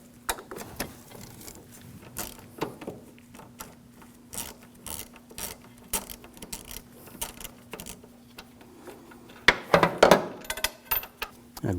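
A ratchet with an E14 socket removes a bolt on a 2007-2013 BMW 328i 3.0L inline-six, giving irregular close clicks and metallic taps spread over several seconds, with a louder clattering cluster near the end.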